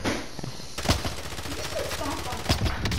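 An SMG 42 submachine gun firing in a Call of Duty game, a steady close rattle of rapid automatic fire running through the whole moment with a few sharper bursts standing out.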